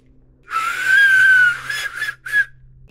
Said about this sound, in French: t'entends en plus l'oiseau?